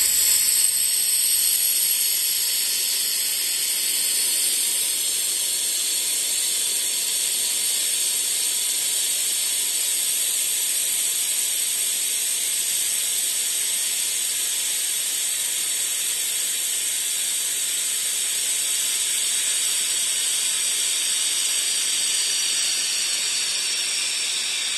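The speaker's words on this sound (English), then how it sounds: "Open the vacuum release valve." Vacuum release valve on a 300L vacuum planetary mixer for HTPB/AP propellant venting with a steady, loud high hiss of inrushing air that holds unbroken throughout, with no talk.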